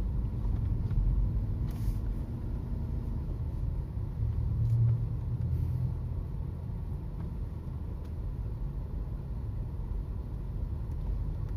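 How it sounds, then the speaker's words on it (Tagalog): Slow-moving traffic on Quirino Highway, a steady low rumble of car engines and tyres with a few brief swells as vehicles creep past close by, no talking. "Traffic talaga dito, slow moving."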